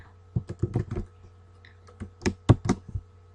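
Quick clusters of crisp key clicks come from a computer keyboard as an Excel formula is typed, with irregular taps and short pauses in a quiet room.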